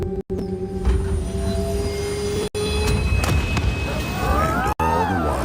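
Train wheels roll on rails with a steady rumble, a sustained tonal whine and rising metallic squeals near the end, loud and close, broken by brief silent cuts, heard in an audiobook advert.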